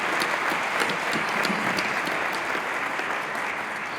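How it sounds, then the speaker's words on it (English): Steady applause from a large audience at a campaign announcement, dense and sustained for several seconds at an even level with no voices over it. "Would you give all of them a round of applause?"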